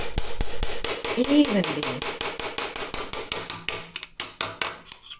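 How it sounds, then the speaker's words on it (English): Metal hammer blows drive a bushing out of a V6 engine block during line boring, a fast, loud, close run of sharp strikes that slows toward the end, with a brief voice in between. "Now we'll take this bushing here out."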